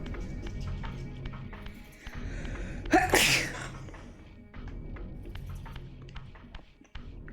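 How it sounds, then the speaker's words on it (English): One loud, sharp sneeze bursts out mid-clip from a person indoors, standing clearly above a quiet background of light tapping and faint room sounds. "Hopefully I can cut out the majority of me sneezing"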